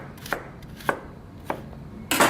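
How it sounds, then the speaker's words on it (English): A knife slices fruit into thin quarter-inch pieces on a cutting board for a cabbage slaw, giving four crisp, evenly spaced cuts close by with no talking. "just cut them into 1/4 inch slices"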